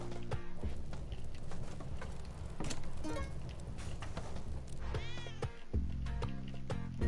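A cat meows within busy Spelunky 2 game audio, brief rising mews cutting through music and clattering effects, moderately faint and mixed with the soundtrack.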